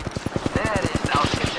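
Automatic gunfire in Apex Legends rattles out as a rapid, evenly spaced burst of loud shots, while a voice talks underneath.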